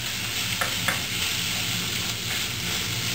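Spareribs stir-frying in a pan, a loud, continuous close sizzle with a couple of brief clicks from stirring, no voices.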